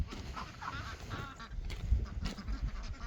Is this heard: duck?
yes